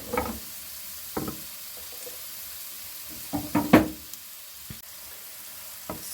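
Onions sizzling and frying in a pan on the way to caramelizing, a soft steady hiss broken by a few spoon knocks and stirring scrapes against the pan.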